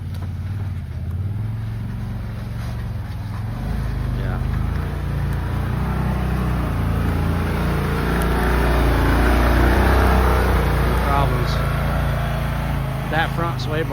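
A Land Rover Defender with factory suspension climbs an uphill off-camber trail, its engine a steady close low rumble that rises slightly midway, with someone talking over it.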